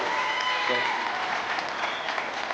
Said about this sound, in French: On peut applaudir quand même Scheherazade pour que c'est excellent.